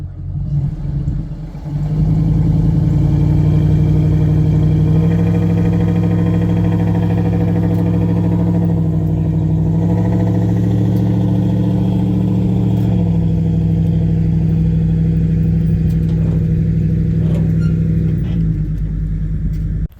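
A 1958 Edsel's engine revs hard and holds a loud, steady, rumbling drone for most of the stretch as the car strains to pull out of spongy ground, with brief dips in revs and no talk.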